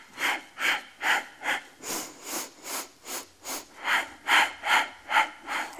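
Steady rhythmic breathing during a Pilates hundred exercise, about a dozen even breaths in quick succession, close and clear with no talking.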